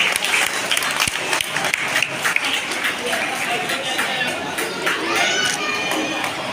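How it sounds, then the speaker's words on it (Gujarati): Audience applause at a student award ceremony, steady dense clapping from many hands throughout, fairly close and continuous with no pause. "ચૌહાણ માહી તાળીઓથી વધાવતા રહીએ આપણે।"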